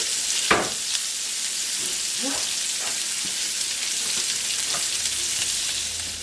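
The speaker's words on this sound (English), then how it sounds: "our next step is to fry our onions to golden" Onions frying in a pan until golden hiss in a continuous, even sizzle close by, with a couple of soft knocks from stirring.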